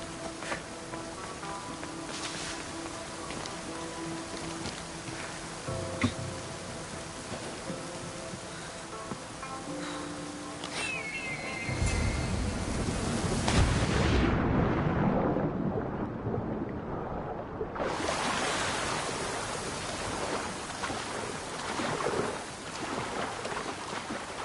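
Rushing waterfall in Assassin's Creed Odyssey, a broad continuous roar that swells louder midway, briefly drops out, then returns steady with no talk.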